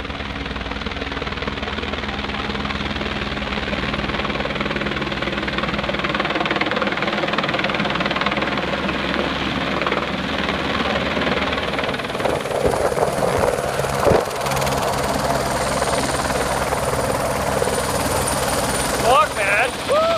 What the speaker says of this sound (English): Well, there's a helicopter.